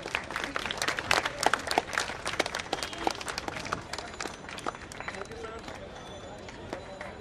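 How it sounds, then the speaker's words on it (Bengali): Audience applause at a Bangladeshi institute's new-student welcome ceremony, clapping for departing special guests; dense crowd clapping with bright sharp claps that build early then thin out toward the end, mixed with crowd murmur. "তাদেরকেও আপনারা করতালি দিয়ে সম্বর্ধিত করুন"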